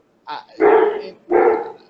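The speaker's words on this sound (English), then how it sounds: "I think your dog agrees with me. They're barking in support." A dog barks twice in close succession, loud and near, a short yip followed by two fuller barks.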